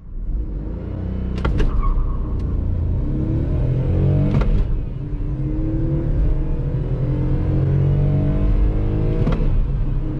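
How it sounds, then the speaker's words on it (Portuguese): A VW Gol 1.0 three-cylinder engine revs up to about 4,000 rpm while accelerating uphill, with a loud steady drone rising in pitch through the gears and brief dips at each shift, heard from inside the car. "Aqui eu vou subir o giro até mais ou menos uns 4 mil giros"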